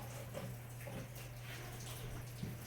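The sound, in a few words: hot water running while cleaning with bleach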